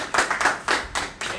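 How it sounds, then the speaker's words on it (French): Several bursts of hand clapping from a small group at a prize-giving ceremony, coming in short uneven waves with brief gaps, as a voice talks over them. "Et ça s'applaudit."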